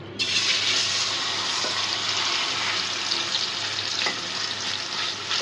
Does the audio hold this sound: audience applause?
no